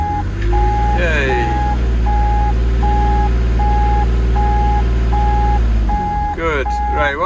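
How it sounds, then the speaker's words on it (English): Vehicle reversing alarm on a heavy machine, a loud evenly spaced series of beeps over a constant engine rumble, with a pitch-sweeping whistle-like tone near the start and again near the end. "stop this beeping noise"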